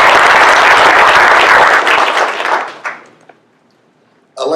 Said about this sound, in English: I got to give them kudos and a round of applause for that.